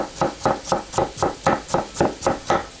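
Rapid, even chopping of a knife through vegetables on a cutting board, about ten crisp strokes in a steady rhythm, close by.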